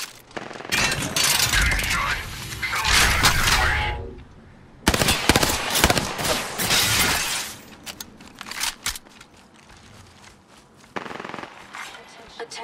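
Apex Legends gunfire comes in long loud bursts of rapid automatic shots with cracking impacts, a short pause, then another heavy volley and sparser shots later, with voices speaking between the bursts.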